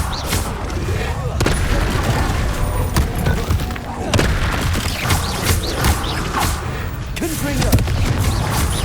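The Expelliarmus spell is cast during combat in the Hogwarts Legacy video game, producing sharp magical blasts and booming impacts in a dense, busy mix with brief voices in between.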